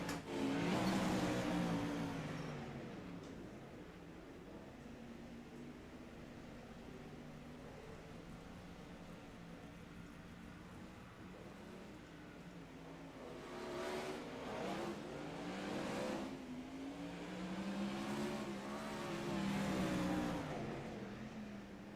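Wingless sprint cars race around the dirt oval at Volusia Speedway Park, engines screaming loudly as they sweep past at the start, fading to a distant drone, then returning in a second rising and falling pass.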